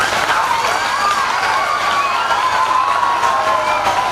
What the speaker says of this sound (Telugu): కరతాళ ధ్వనులతో ఒక్కసారి చప్పట్లు కొట్టి